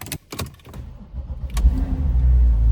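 A Porsche engine cranks and catches after a few clicks, then settles into a steady low rumbling idle that grows fuller.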